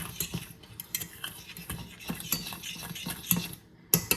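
Vanilla pudding ingredients whisked together in a bowl, a quick irregular patter of light metallic clinks and taps close by, fairly quiet and without talk.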